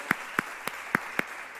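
A handful of separate, sharp hand claps ring out at a church conference service, five evenly spaced claps with quiet between them.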